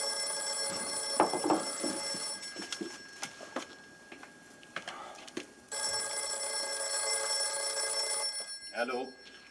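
A telephone bell rings in two long, steady bursts, the second beginning partway through, with voices talking over and between the rings.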